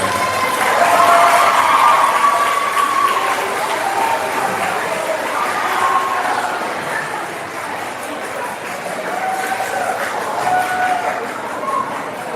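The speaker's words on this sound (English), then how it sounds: "That's a heck of an applause." Sustained audience applause fills a room at an 8th grade civics awards ceremony, a steady wash of many hands clapping, with some voices mixed in.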